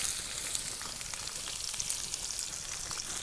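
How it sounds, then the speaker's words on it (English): Sliced onions and peppers sizzle in a heavy oiled pan set over an open campfire, a steady close crackling fry with dense popping and spitting throughout. "You can't beat the sound of sizzling onions and sizzling peppers."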